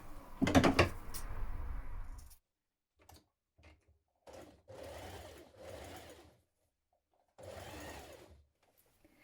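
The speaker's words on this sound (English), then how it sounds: "Now baste your raw edges together." A sewing machine bastes the raw edges of a winter coat in short separate bursts of stitching with quiet gaps between them.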